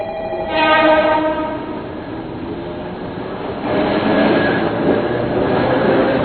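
In an animated series, a train rumbles along steadily, its horn sounding with a sustained tonal blast, and the clatter of the cars grows louder toward the end.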